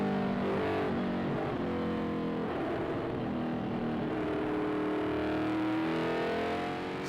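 Russell Greer's F5000 race car is heard onboard, its engine roaring loud and continuous down the back straight toward Dunlop at Manfeild, with pitch rising and falling through gear changes and no talk.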